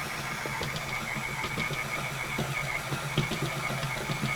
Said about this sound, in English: now I'm going to finish off all the real heavy-duty mixing with the paddle attachment on medium speed